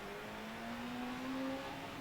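A rally car engine in the Dirt Rally video game revs steadily in first gear, a sustained rising tone that holds for about two seconds at moderate loudness, with no talk over it.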